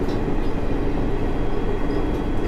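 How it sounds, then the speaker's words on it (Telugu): Steady low rumble and rattle from inside a middle coach of the moving Kakinada Port–Sainagar Shirdi Express, a constant loud wash of wheel and carriage noise with no talking. "నేను ట్రైన్కు మిడిల్ కోచ్లో అయితే ఉన్నాను."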